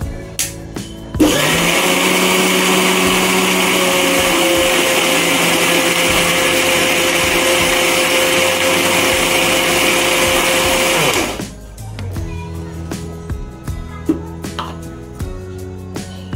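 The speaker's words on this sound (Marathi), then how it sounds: "गोड चटणीसाठी प्रिपेअर करते, म्हणजे गोड चटणी. आता त्याला वाटून घेते पहिले" A mixer grinder whirs loudly and steadily for about ten seconds, blending sweet chutney, then cuts off, leaving quieter kitchen clatter and small knocks behind.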